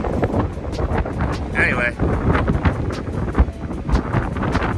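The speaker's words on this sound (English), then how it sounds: "Ooh, hear that wind?" Wind buffeting outdoors around a 1977 Dodge Minnie Winnebago RV, a steady loud rush with gusty swells, carrying on under a person's talking.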